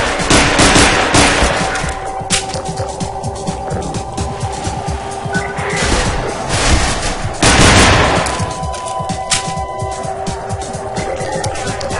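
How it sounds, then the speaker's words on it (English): Rapid SMG fire from a Half-Life 2 game session, a stylized MP7 reskinned as an MP5, crackling in dense bursts with a heavy louder volley near the middle and steady shooting throughout. "Second weapon, the SMG."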